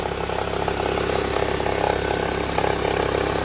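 A Toyota Harrier's 5S-FE engine idles with a strange crackling knock, a steady close mechanical drone with a fast, faint ticking rattle running through it and no voices.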